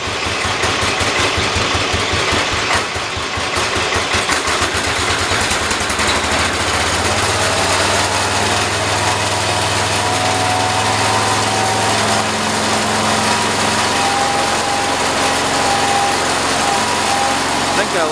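Small engine of a John Deere 212 lawn tractor idling after carburetor tuning, loud and close with a steady rumbling drone that settles to a smoother, even idle, with someone talking over it.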